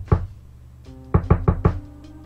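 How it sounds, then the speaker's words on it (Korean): Knocking on a door in a Korean horror radio story: one knock, a pause, then four quick, evenly spaced raps, close and fairly loud against a quiet background. "계속 문을 두드리는 겁니다."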